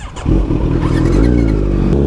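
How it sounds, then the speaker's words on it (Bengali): A Himalayan motorcycle carrying luggage passes close by on an open road with a loud, rising engine drone that holds steady for about two seconds. "বাইক যায়।"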